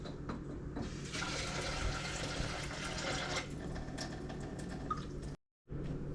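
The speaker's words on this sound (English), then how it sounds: "I'm just going to put some water in this." Tap water runs into a bottle being filled to prepare Esbilac puppy formula. A steady, moderately loud rush swells, then eases and stops briefly near the end.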